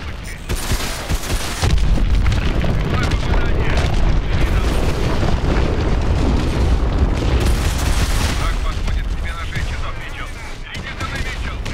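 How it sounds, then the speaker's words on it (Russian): Gunfire and explosions from Call of Duty: Advanced Warfare build into a dense, loud barrage of booms and rapid shots that keeps going from start to finish. "Они там стреляют, надо ускориться."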